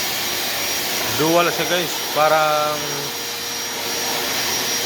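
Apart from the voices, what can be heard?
Black & Decker vacuum cleaner cleaning a gym mat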